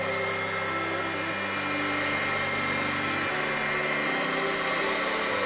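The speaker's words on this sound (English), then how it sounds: "we're going to get our heating implement" A heat gun blows steadily over a craft art journal page, a constant loud whirring hum of fan and heater that shifts slightly in pitch partway through, with no talk.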